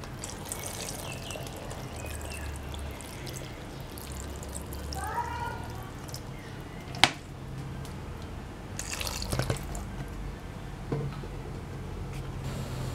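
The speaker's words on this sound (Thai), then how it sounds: "เมื่อเราผัดแล้วนะคะเราก็จะเติมน้ำให้ท่วมนะคะให้ท่วมผักเลยนะคะ" Water poured over sautéed cabbage in a pot, a soft splashing and trickling with a few drips and a sharp clink, faint against a quiet kitchen background.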